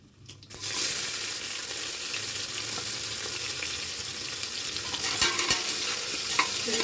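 Chopped onion frying in a pan for avarekalu palav, a steady loud sizzle with stirring scrapes that runs almost the whole time after a brief quiet start.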